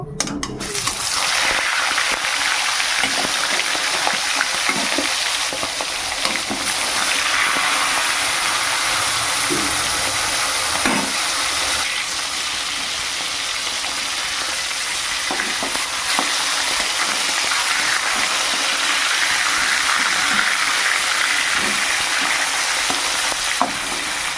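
Rohu fish heads fry in very hot mustard oil in a kadai, a loud, steady, dense sizzle that continues without a break, with a few faint scraping touches mixed in.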